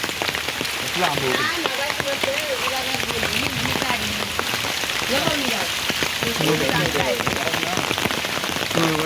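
Heavy rain pours steadily on a Konkan village, a dense unbroken hiss of drops on surfaces with speech mixed in.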